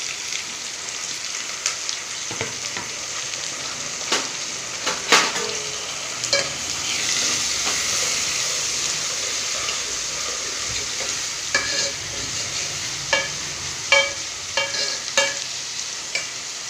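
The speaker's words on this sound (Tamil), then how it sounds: "எல்லாம் சேர்த்து வதக்கிடுவோம்" Onions, green chillies and tomatoes sauté in a hot pan with a continuous crackling sizzle, broken by irregular spoon clicks and scrapes as they are stirred close up.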